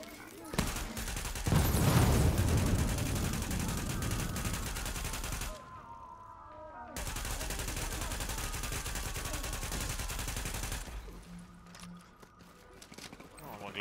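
Bursts of rapid gunfire crackle and pop in The Division's Dark Zone, loud and dense at first, pausing, then resuming with steady shots over background noise.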